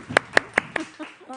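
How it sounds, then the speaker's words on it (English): A few sharp, evenly spaced hand claps, four distinct ones followed by softer trailing pats, from a small group in a live hobby broadcast studio, close and brief. "Round of applause"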